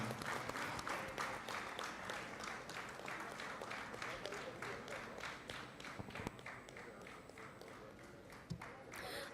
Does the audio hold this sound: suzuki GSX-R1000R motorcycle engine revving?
no